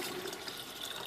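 Cold water pours into a jug for watermelon lemonade, a brief, quiet, steady splashing rush with no pause.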